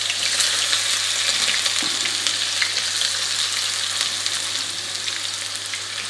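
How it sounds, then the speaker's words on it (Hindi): Chopped onions fry in half a cup of oil, giving a dense, steady sizzle close up with faint crackles throughout. "इसको हमने अच्छा सा करना है फ्राई, प्याज ताकि सॉफ्ट हो जाए"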